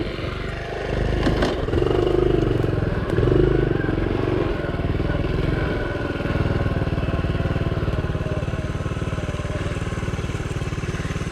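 A small Honda Trail CT70 motorcycle rides through woods, its engine running loud and steady throughout with a few clattering knocks and surges early on, then a continuous droning putter.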